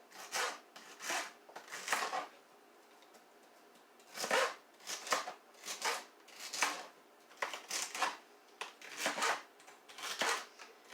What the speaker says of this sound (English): I'm going to cut these about a ½ inch, including the leafy greens